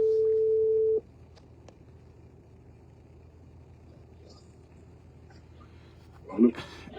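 A phone call is placed: a steady telephone line tone sounds for about a second, then cuts off into near-silence with a faint background hiss and a short muffled burst near the end.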